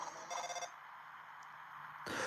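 In a Deltarune cutscene, a phone rings in a short electronic trill of quick repeated pulses lasting about half a second, followed by quiet game ambience, with no one talking.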